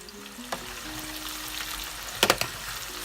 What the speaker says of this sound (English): the oil is ready here, so I'm going to fry the potato as well